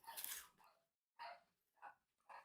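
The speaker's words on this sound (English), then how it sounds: "And that's the dogs barking again just because I'm opening boxes." Several dogs bark in short bursts, about four barks with gaps between them, muffled and somewhat distant indoors.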